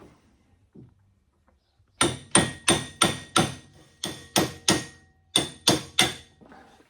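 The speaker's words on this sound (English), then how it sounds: "Get my brass punch. Go around it, tap it in lightly." A run of about a dozen sharp metallic taps of a brass punch seating a seal on a 1972 VW Super Beetle, in a steady rhythm, struck close by, with quiet moments before and a softer tap at the end.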